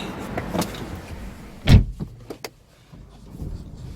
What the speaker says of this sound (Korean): 여기 보시면 전동 미러 들어가 있고요